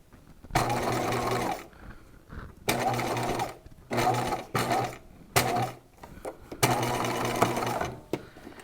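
A sewing machine stitches a seam on a gown in several separate bursts of running, each lasting a second or so, with short quiet gaps between as the fabric is guided toward the presser foot.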